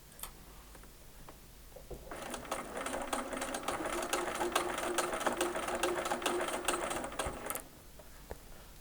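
A sewing machine stitches a quilt Y seam for an eight-point star, running in one steady, rapid burst of fine ticking stitches for about five seconds, then stopping, close and fairly quiet.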